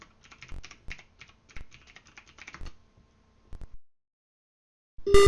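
Keys clacking on a TRS-80 Color Computer keyboard as commands are entered for an adventure game, in short irregular bursts of close typing, then a pause and a brief final keystroke with a beep.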